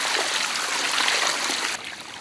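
Cooking oil is poured into a pan during outdoor village cooking of chicken-leg Hakka noodles, a loud, steady rushing stream that softens slightly near the end.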